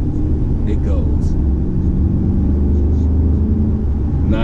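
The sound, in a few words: Mercedes-Benz S550 bi-turbo V8 accelerating in sport mode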